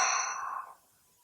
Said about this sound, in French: Viens prendre une grande inspiration par le nez, une grande expiration par la bouche.